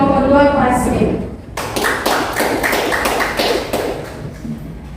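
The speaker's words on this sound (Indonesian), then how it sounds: "Berikan tepuk tangan yang meriah kepada kelompok 2 kelas B." A class group gets applause, a few seconds of sharp taps and claps after a spoken announcement.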